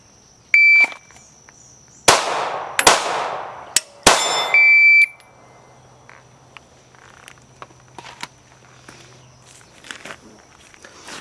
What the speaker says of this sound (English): I'm going to hit the button, kind of pivot back out of the way here, and I'm going to shoot 3 times so you can see it happen.